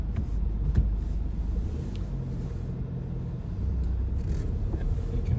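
A 2017 Ford Kuga with a new clutch on the move, its steady low engine and road rumble continuous and close, with a faint scrape or two and no voices.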